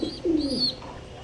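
A single yellow satin pigeon gives one close, clear coo, with no talking.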